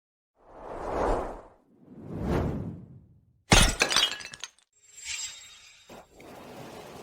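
A porcelain cup known as the Autumn Trio, worth a fortune, smashes with a loud sudden shatter and tinkling shards, preceded by two swooshing whooshes and followed by scattering glassy clinks and a low rumble.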